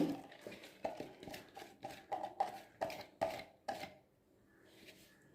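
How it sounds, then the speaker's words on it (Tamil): Chinese cabbage is grated by hand in a run of sharp, rhythmic scraping strokes about a dozen in quick succession, close and distinct, then stopping into quiet. "ரொம்ப நைஸாக இல்லாமல் இந்த மாதிரி துருவி எடுத்துக்கோங்க"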